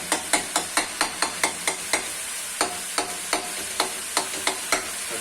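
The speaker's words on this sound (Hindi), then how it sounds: "और मसाला भी थोड़ा सा भून लेंगे" Masala with onion, turmeric powder and salt fries in a pan with a steady sizzle, while a spoon scrapes and taps against the pan in a quick, regular rhythm, close and alone.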